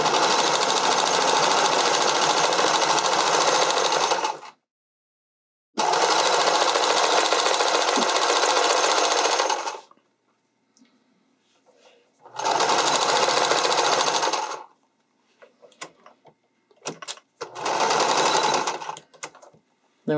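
A sewing machine stitches the seam of a bodysuit in three long steady runs of loud, close mechanical whirring, separated by pauses with small clicks and handling noises, and a fourth run begins at the end.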